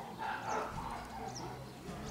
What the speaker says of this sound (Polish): Synek wrócił ze spaceru z pieskiem